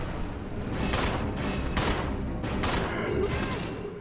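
Repeated gunshots from Rebecca shooting zombies in the video game Resident Evil Zero. Four or five broadband blasts sound about every second over a steady, dense rumble of game background noise, with no speech.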